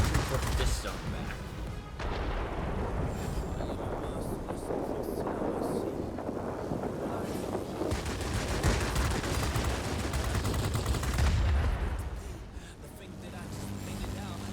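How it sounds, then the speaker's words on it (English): Plane-mounted machine guns fire in World of Warplanes, sustained bursts of rattling gunfire over a constant engine and wind roar through most of the stretch, with a person speaking over the game. "We're gonna shoot at him."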